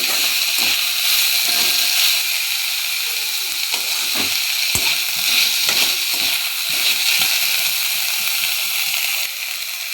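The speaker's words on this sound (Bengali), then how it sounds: "শাকের মধ্যে উচ্ছে ভাজাটা দিয়ে দেব, নেড়ে দেব।" Fried bitter gourd stirred into greens frying in a pan, a loud continuous sizzle and hiss broken by repeated scraping stirs of the spatula.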